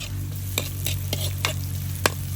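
Onions hitting hot oil and frying, a steady close sizzle under a low hum with several distinct scraping stirs of a spatula against the pan, no talk.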